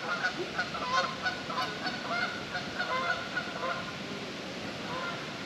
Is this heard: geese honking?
yes